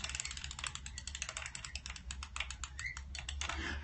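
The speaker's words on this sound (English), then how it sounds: "Yeah, just cranking this thing." A clothes drying rack on an apartment balcony in Beijing is cranked by hand, giving a steady run of quick ratcheting clicks that continue for several seconds at close range over a low background hum.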